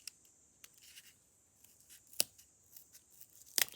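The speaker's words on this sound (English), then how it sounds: "Let's try it with cardboard." Faint snips and crunches of small Victorinox Alox Rambler scissors cutting through cardboard, a few sharp clicks spaced irregularly in a quiet room.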